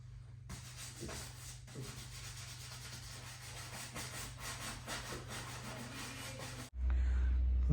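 Boots being polished, a steady brisk rubbing and brushing that runs continuously for several seconds, then gives way to a loud low rumbling hum near the end.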